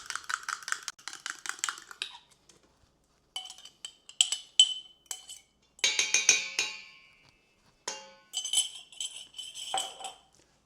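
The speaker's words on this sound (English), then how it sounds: "I'm gonna beat this egg," A whisk or fork clinks briskly against a bowl while beating an egg with milk and buttermilk, coming in quick rhythmic bursts of close, bright tapping separated by short pauses.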